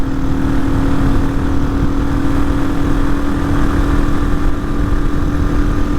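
A Hawk 250 motorcycle with a swapped six-speed Loncin RE250 engine drones steadily in sixth gear at cruising speed, its even, loud engine tone mixed with heavy wind buffeting.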